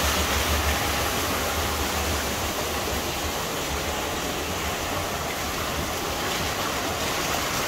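Water rushes steadily at a water wheel in Blumenau, Santa Catarina, a loud, even roar of flowing water that holds unbroken throughout, with no voices.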